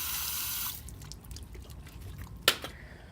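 Water from a garden hose in a Central Florida container garden hisses briefly and then cuts off, followed by a few soft drips and one sharper splash in otherwise quiet surroundings.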